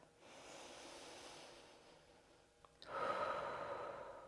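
A deep yoga breath at the close of a hip stretch, a slow, airy inhale followed by a fuller, louder exhale, close and alone without talk.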